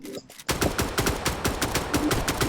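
Rapid bursts of automatic gunfire in a video game, loud and close, firing almost continuously after a brief quiet opening.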